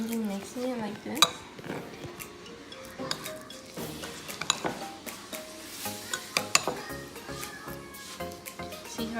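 A gooey, scrubby-textured mixture is stirred in a bowl, giving a steady run of wet scraping and clinking taps against the sides, close and moderately loud, with a voice talking over parts of it.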